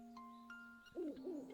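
An owl hoots in the Link's Awakening video game, a few soft wavering hoots that follow a gentle chiming jingle of game music, faint and unaccompanied by talk.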